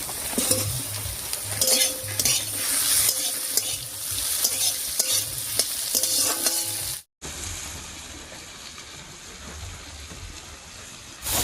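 Spices, ginger, garlic, chopped onion and tomato fry in oil and are stirred vigorously, with repeated scraping clanks of a utensil against the pan over a continuous sizzle, briefly cut before the frying resumes.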